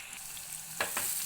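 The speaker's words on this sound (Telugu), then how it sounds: "లో ఫ్లేమ్లో అయితే ఫ్రై చేసుకోండి ఈ కాకరకాయలు బ్రౌన్ కలర్ వచ్చే వరకు ఫ్రై చేసుకోవాలి" Bitter gourd pieces fry on a low flame with a steady, fairly quiet hiss, broken by two short scraping stirs near the end.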